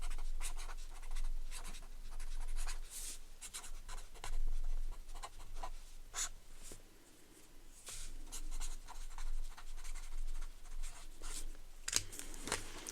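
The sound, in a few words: writing with a pen on paper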